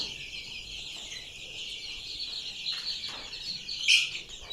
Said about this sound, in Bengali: আলহামদুলিল্লাহ আমাদের সবগুলা মুরগি সুস্থ আছে